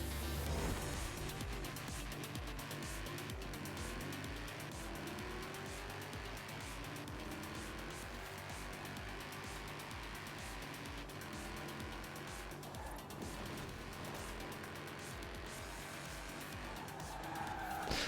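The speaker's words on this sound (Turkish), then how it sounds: "Araba çok kayıyor bir kere." A car in Forza Horizon 4 skids and slides through a continuous stretch of tire squeal and engine roar, loud and dense throughout, with no talking.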